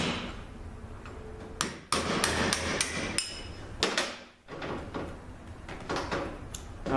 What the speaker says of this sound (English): I'll show you what I do to knock that in to get the right height